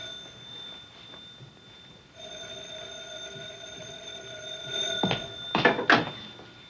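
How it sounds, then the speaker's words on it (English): In a 1956 film noir scene, a second telephone rings in an office. Steady tones are heard first, then louder metallic ringing bursts toward the end, fairly close and with no talking. "Goes the other phone."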